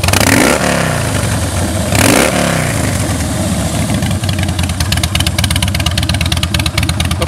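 A 2007 Harley-Davidson FLSTC Softail Heritage Classic V-twin roars through two sharp throttle blips, then drops into a loud, lumpy, rapid idle close by.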